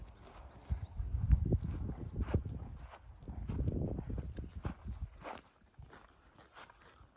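Horses out to graze shuffle and plod nearby, hooves thudding irregularly on soft ground, with faint snorting and rustling.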